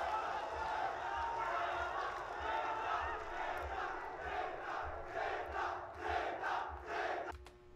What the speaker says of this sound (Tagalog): Lakas talaga ng crowd ng ano. Crowd ng Cebu.